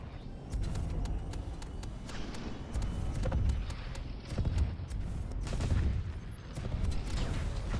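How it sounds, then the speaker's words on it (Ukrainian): Rapid gunfire and cannon-like shots in an online tank video game, a dense stream of sharp cracks and thuds that bunch into heavier bursts over a rumbling battle background. "Якось так всі почали по мені стріляти."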